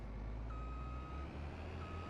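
Steady electronic reversing beeps from a truck in the farming game Farming Simulator 22, two long tones at a moderate level over a constant low engine rumble.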